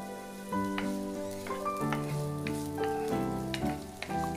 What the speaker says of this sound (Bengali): আমি প্রথমে দিব একটু পেঁয়াজ কুচি